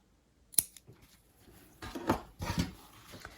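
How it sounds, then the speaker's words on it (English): Scissors snipping small cuts into folded fabric at the fold for a notebook cover, a sharp close snip followed by a few softer crunching cuts, quiet with no talk. "we want to cut the tiniest little snip so that we have marked our center"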